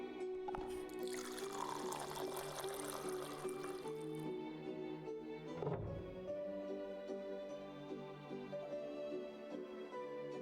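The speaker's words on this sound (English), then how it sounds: "Dirty water goes here. Comes out crystal clear in the other end." Water filter in a video game pouring clean water, a steady trickling fill with a swelling splash early on, a short whoosh midway and a faint ringing hum beneath.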